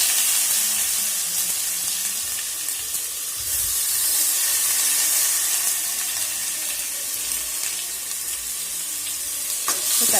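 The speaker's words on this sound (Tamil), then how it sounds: "தக்காளி நல்லா வதங்கட்டும்." Tomato and dried chillies for pepper rasam sauté in a pan, producing a loud, steady sizzling hiss with faint stirring scrapes and occasional crackles, close up and without speech.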